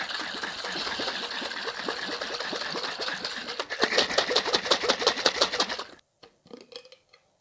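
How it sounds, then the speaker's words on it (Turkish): Yogurt and cucumber juice are whisked into green ayran with a rapid rhythmic churning and slapping that grows louder and stronger midway, then stops abruptly, leaving a few soft clinks. "Sonra normal bildiğiniz ayran yapar gibi karıştırıyoruz."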